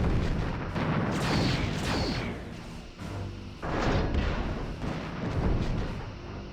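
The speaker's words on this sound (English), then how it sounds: "Lining up rear torpedo tubes." Torpedoes launching in a Star Trek space-combat video game, heavy low booms and rumbling blasts in several swelling waves, dense and loud throughout.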